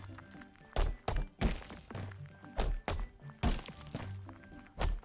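Chest opening in the video game ArchVale, heard as a series of sharp thunks and thwacks over busy game music, close and fairly loud, repeating in an uneven rhythm.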